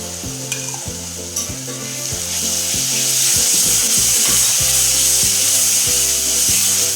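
Poppy seeds sizzle and fry steadily in hot oil for patwadi, a loud continuous hiss that swells after a couple of seconds, with no talk.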